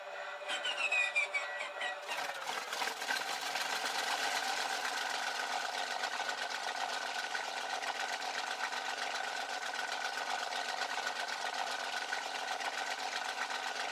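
A Bf 109 G-14 fighter's engine in a flight game, starting with a whine and catching after a couple of seconds, then running at a steady, close, buzzing drone throughout.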